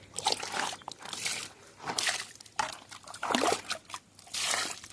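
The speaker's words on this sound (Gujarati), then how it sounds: "હવે થોડું થોડું પાણી નાખી દે" Water is splashed and poured a little at a time into feeding dishes for cows, heard as several separate bursts of trickling and sloshing liquid with short quiet gaps between them, fairly soft and close by.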